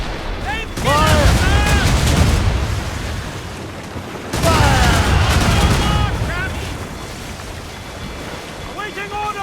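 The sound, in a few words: ship cannons firing a volley in Assassin's Creed Rogue video game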